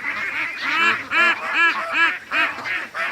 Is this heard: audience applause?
no